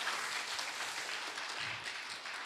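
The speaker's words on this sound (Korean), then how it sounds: "박수 한번 부탁드리도록 하겠습니다." A studio audience applauds after the second part of a science talk show on heatwaves and heavy rain, steady broadband clapping held at an even level for a couple of seconds.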